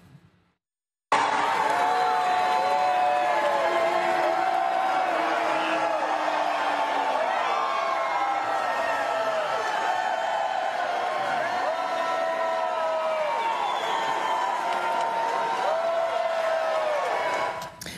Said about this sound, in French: il y a eu des applaudissements qu'on entend, mais surtout des huées